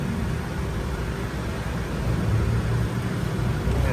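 Rear fan blower in a 2022 Mitsubishi L300 FB Euro, humming from a worn bushing at about 5,000 RPM: a steady, continuous low drone and whir with a broadband airy hiss, close and unbroken throughout.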